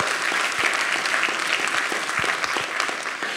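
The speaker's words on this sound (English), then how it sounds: "Give them a round of applause, please." Audience applause at a conference session, a dense, sustained clapping from a full room that holds steady for several seconds without voices over it.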